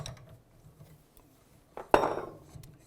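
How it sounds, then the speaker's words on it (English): BMW R90/6 rear wheel bearings being clamped in a vise: faint metallic shuffling and handling, then a sharp clank of metal on metal followed by smaller rattles and a few light taps, close by with no talking. "I'm going to chuck those up in the vise here."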